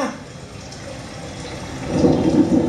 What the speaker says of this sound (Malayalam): ഇത്തവണ മഴ നേരത്തെയാണല്ലോ